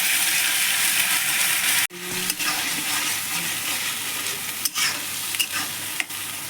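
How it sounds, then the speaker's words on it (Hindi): Bay leaf, dried red chilli and cumin tempering in hot oil for a chana saag curry, a loud continuous sizzle with a few sharp stirring knocks and scrapes, close and without voices. "अब मैं इस सब्जी के लिए तड़के के लिए मैं तेज पत्ता, सूखी लाल मिर्ची और फिर जीरा डाल दूँगी"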